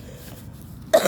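A single short throat-clearing cough from a person recovering from the flu, sudden and close after near silence.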